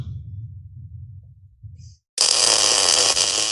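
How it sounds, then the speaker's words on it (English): A Millermatic 255 MIG welder running in short circuit mode on base metal starts after a low hum and brief silence, a loud, close, steady crisp crackle and sizzle from the wire rapidly touching the metal. "That crisping sound is the wire actually contacting the base metal hundreds of times a second."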